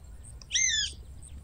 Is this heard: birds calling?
yes